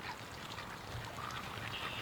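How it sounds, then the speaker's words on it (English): Ducks quack while heading toward a swamp outdoors, their calls blending into a steady, noisy wash of open-air background sound, with no voices. "here's some duck action. Looks like they're going to the swamp."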